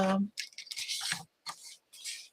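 Close-up scissors snip and rasp through paper while fussy cutting small pieces for cardmaking, a quick string of cuts broken by brief pauses, with a voice faintly present at the start.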